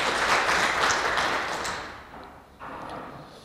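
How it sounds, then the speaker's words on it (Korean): Applause from the audience at a foundation supporters' year-end evening gathering, a dense burst of clapping that fades over a few seconds, then a brief lift in the noise. "여러분 큰 격려의 박수 주시기 바랍니다"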